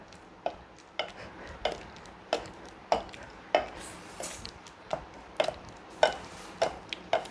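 Ripe bananas mashed by hand with the handle end of a ladle for dosa batter, making a regular series of sharp knocking and squelching strikes, about one every half second, close by with no talk.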